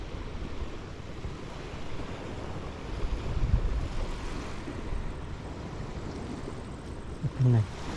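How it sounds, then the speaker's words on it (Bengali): Steady rushing wind and surf at the seashore fill the whole stretch as a continuous broad roar, with a brief low thump near the end. "সমুদ্রের মধ্যে থেকে মনে হলে খুব ক্রিপি একটা সাউন্ড আসছে।"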